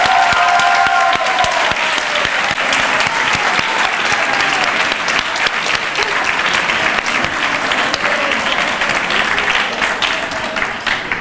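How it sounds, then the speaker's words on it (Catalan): Loud, sustained applause from a large crowd at a school graduation ceremony, steady clapping filling the whole stretch without pause. "Demanem un fort aplaudiment per al Gerard Ávila."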